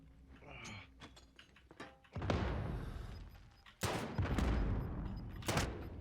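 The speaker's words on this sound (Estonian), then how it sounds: "Granaat." Grenade blast in a Call of Duty match: a loud broadband burst suddenly erupts after quieter gunfire clatter and game noise, followed by a second heavy explosion and continued roaring debris.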